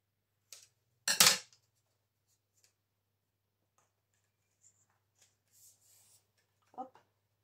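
Scissors cut a paper strip with one short, crisp snip, followed by faint paper handling and small taps in a quiet room.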